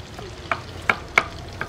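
Eggs fry in a pan at a street food stall while a utensil stirs them, giving a steady sizzle broken by four sharp scraping clicks, close and clear without talk.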